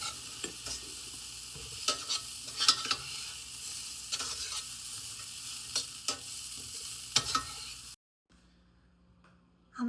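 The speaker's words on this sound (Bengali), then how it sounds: "এটা 2 মিনিট নেড়ে চেড়ে আমি এখন এটাতে আমার লেবুর রসটা অ্যাড করে দিব।" A spoon stirs poha (flattened rice) in a pan with a soft sizzle, scraping and clicking repeatedly for several seconds before it stops abruptly into near silence.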